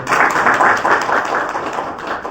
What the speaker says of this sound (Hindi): इस बात के लिए भी मैं जोरदार तालियां चाहूँगा।